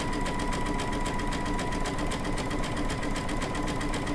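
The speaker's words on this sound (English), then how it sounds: "That is the zigzag stitch that I am going to use. So here we go." A Baby Lock sewing machine fitted with a fringe looping foot runs a zigzag stitch at an even, slow speed, a steady close rhythmic mechanical hum with rapid needle ticking throughout.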